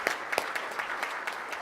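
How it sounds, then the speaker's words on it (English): Applause at a Rotary Club meeting for guests and hosts, a room of people clapping steadily, somewhat distant with a few sharper close claps standing out. "hosts a round of applause"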